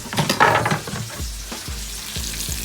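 Small pieces of bacon fry in a pan, a steady nearby sizzle following a busy opening burst of clatter and stirring, then a few soft low thumps as the pieces are spread out; nobody talks.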